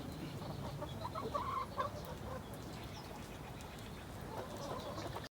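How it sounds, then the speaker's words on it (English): Chickens, hens and roosters cluck and murmur inside a crowded coop, a soft, continuous flock chatter with a few brief louder calls rising above the low background. "Our social roosters."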